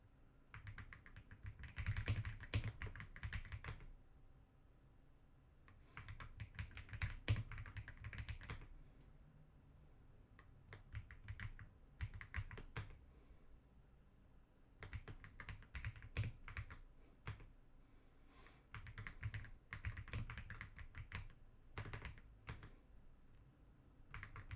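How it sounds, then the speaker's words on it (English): Names are typed on a computer keyboard in several bursts of rapid, soft key clicks separated by short pauses, faint and close with no talking. "Just typing everybody's names in here."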